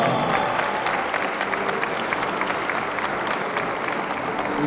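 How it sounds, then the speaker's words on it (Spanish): Audience applause fills the venue at a senior men's compound bow archery final of the Spanish championship, a steady, dense wash of many clapping hands that holds at an even level throughout. "aplauso para Víctor Canalejas Tejero"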